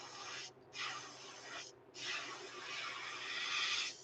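An airbrush sprays thin paint onto a fishing lure in craw colors, a close, steady hiss in three bursts with two short pauses between them.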